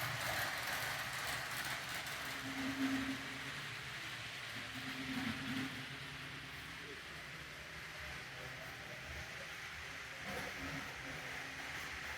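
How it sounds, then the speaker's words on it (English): A BNSF freight train rumbles past a switchyard in Temple, Texas, at a distance with a steady, low mechanical roar and faint clatter, fairly quiet throughout. "Some motion sensor activated train."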